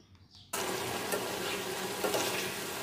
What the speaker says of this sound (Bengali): এই মাছ আর তরকারিটা কিন্তু বেশ কিছুটা সময় নিয়ে কষিয়ে নিচ্ছে